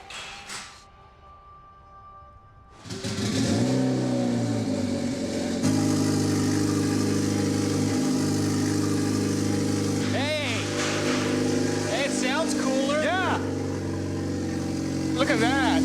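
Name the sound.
first startup of turbocharged hybrid car engine, revving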